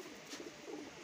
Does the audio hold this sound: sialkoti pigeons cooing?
yes